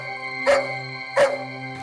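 Dog in a Hindi crime drama scene giving two short, loud yelping cries about 0.7 seconds apart over a steady tonal music bed, with no talking.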